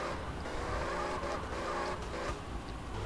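A car drifts in the MTA driving game, with continuous engine drone and tire noise held at a steady level throughout, fairly faint.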